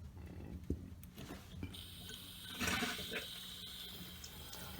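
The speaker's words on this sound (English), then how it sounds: "We turn on the water real slow." Water flows from a supply line into a toilet tank through a newly replaced fill valve, a steady hiss of running, filling water with a few knocks early on and a brief surge in the middle.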